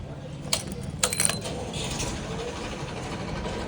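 A bunch of keys jingles in a few quick metallic bursts as a village shop is locked up on a hot afternoon, close and brief, over a steady low background hum.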